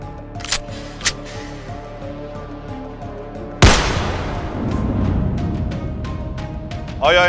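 A gun fired on a table during a mafia party game: one sharp loud bang midway, followed by a noisy rumbling tail, with faint clicks before it and a scrape near the end.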